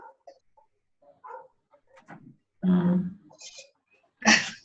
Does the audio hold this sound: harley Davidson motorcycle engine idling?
no